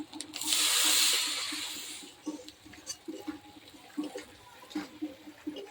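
Water pours briefly into a pan of frying spices such as ground turmeric and cumin, a loud hissing sizzle that fades after about two seconds into soft, irregular crackling.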